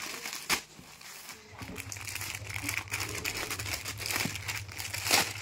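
Plastic packaging crinkling and rustling as a full-sleeve cotton T-shirt is unwrapped, close and continuous, with a faint low hum in the background.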